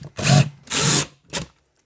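A power drill drives screws into a shower wall in three loud, close bursts, with the last burst shorter, separated by brief silences.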